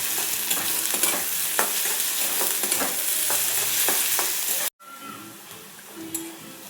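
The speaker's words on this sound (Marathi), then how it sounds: "कांदा छान ब्राऊन रंगावरती परतून झालेला आहे." Chopped onion and cumin seeds fry and get stirred in a pan, a steady sizzle broken by scraping strokes of a spoon, close and fairly loud, with a brief pause before quieter sizzling continues.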